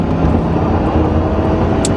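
A 1996 Chevrolet Impala SS with an LT1 V8 pulls hard in a roll-on acceleration, a loud, dense, continuous engine roar heard close up throughout.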